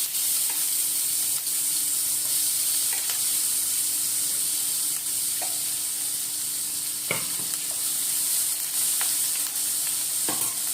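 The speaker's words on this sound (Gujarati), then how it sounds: "ડુંગળી ગોલ્ડન કલરની થઈ જાય ત્યાં સુધી એને સાંતળીશું" Onions sautéing in oil in a pan for an egg curry gravy, giving a steady hiss and sizzle close by, with occasional light ticks from a wooden spoon stirring, and no voices.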